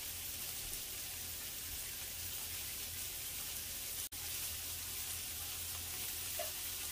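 Onions with curry leaves frying, a soft, even crackling sizzle that runs steadily throughout, faint and close, with one brief dropout and no voices.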